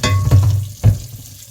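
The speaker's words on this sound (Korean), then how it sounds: "물에 가볍게 헹궈줬고요." A heavy item, cleaned of red rust with baking soda and vegetable oil, is rinsed lightly under water. There are two short splashing, sloshing bursts, close and fairly loud, then quiet.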